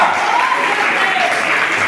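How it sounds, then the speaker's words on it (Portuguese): Congregation at a Sunday church service clapping loudly and continuously, a dense close wash of applause with a voice calling out faintly beneath it. "Aplauda o nome de Jesus Cristo"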